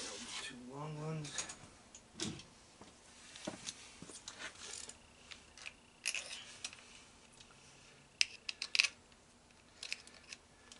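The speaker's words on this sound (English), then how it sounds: "You guys know when you tighten these things, you're really supposed to, you know, just bring them down to a little bit snug." Intermittent metallic clicks and ratcheting from a wrench tightening bolts on a Honda ATC 250ES engine come in short bursts at close range, with quiet pauses and a few faint murmured vocal sounds.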